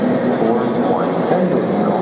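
A České dráhy Pendolino SuperCity train at Olomouc railway station gives a loud, steady rumble with a faint rising whine, heard up close and continuous.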